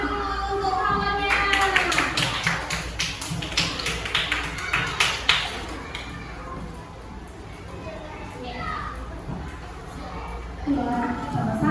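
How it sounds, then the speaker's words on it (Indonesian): Schoolchildren in a classroom clap for a classmate in a brisk, uneven burst of hand claps lasting a few seconds, then it fades as children's voices and a teacher talk. "Oke, tepuk tangan dulu untuk kawannya."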